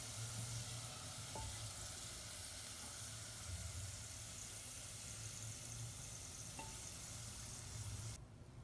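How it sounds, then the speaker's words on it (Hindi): Onions frying in oil until light brown for kofta curry, a continuous faint sizzle and hiss with a couple of soft clicks, dropping away at the very end. "जी प्याज को बिल्कुल लाइट ब्राउन करना है"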